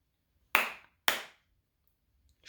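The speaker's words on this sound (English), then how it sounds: "How do you feel long claps and short claps?" Two sharp hand claps about half a second apart, each with a short decay, in a quiet room as part of a long and short rhythm exercise, followed by a faint onset of another sound at the very end.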